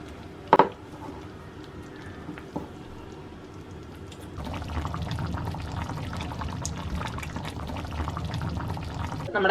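Chicken curry gravy simmers in a pan, giving a soft, continuous bubbling that grows fuller partway through, with a brief clatter of utensils near the start.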